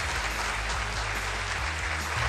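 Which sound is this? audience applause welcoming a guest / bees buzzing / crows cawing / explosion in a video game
audience applause welcoming a guest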